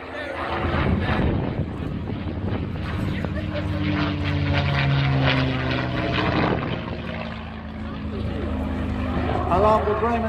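A Mustang propeller aircraft flies at an airshow, its steady engine drone filling the air at moderate distance while a commentator talks over it throughout.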